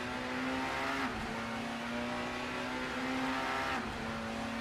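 A BTCC front-wheel-drive touring car in Assetto Corsa runs at a steady, loud engine drone from the cockpit. The pitch dips briefly twice, as if under lifts or shifts, against constant road and wind noise.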